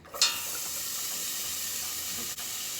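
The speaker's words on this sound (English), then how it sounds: "So in the same pot with the bacon grease, we're going to add in 1 cup of diced onion" Diced onion hits hot bacon grease in a pot, giving a sudden burst of loud, steady sizzling and hissing that carries on evenly with no voices.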